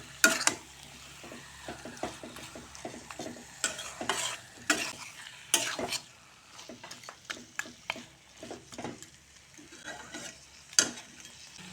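Chicken pieces stirred and fried with spice masala in a pan, scraping and clattering strokes in irregular bursts over a steady close sizzle, with no voices.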